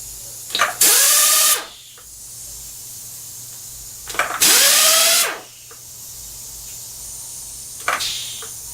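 An air-powered draw bar on a Bridgeport milling machine fires in two loud pneumatic bursts. Each one is a sharp blast of air with a rising whine that runs about a second, followed by a quieter hiss and a small click near the end.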